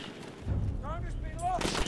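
Gunfire in Battlefield 1 multiplayer on Xbox One, rough bursts of shots against a noisy battlefield, with a voice talking over the action.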